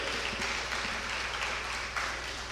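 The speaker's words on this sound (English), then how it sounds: "Please, if you're clapping, let's do it better for him, please." Sustained audience applause at a conference session, a dense, even wash of many hands clapping that carries steadily through the whole stretch at a moderate distance.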